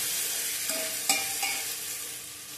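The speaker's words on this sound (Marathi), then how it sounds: "राजमा घालून घेऊया चांगला तेलात।" Kidney beans stir-fried in hot oil for rajma masala rice give a steady sizzle. A spoon scrapes and clatters through the pan in a few short strokes, close up, with no talk.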